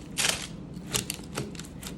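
A knife saws through a regular dinner roll in several short, crisp, scratchy strokes, close and fairly quiet, with no talking.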